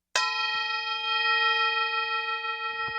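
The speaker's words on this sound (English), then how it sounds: "So in this small room, we have a prayer bowl." A small prayer bowl, a little smaller than a gong, is struck once up close and rings out in a bright, sustained metallic tone that holds steadily without fading.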